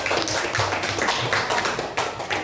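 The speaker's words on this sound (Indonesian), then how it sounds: "Beri tepuk tangan dulu untuk kelompok kinestetik" Classroom applause for a student group during a teaching practice lesson, a short round of uneven hand clapping from a small group, moderately loud and close, with no talk over it.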